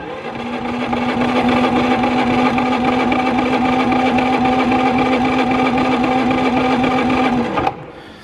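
Harbor Freight 3500 generator engine starting with eco throttle off, then running: a steady, loud, close droning hum for about seven seconds before cutting off abruptly, with no talk.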